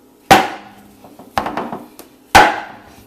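A knife is hammered down through a whole mango on an old chopping board: three sharp, loud whacks about a second apart, with softer knocks and scrapes between them, close by and with no talking.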